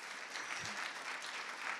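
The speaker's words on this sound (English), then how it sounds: "Can we all give a round of applause to Trevor Smith?" A conference keynote audience breaks into a round of applause, dense even clapping from many hands at moderate distance that holds steady throughout.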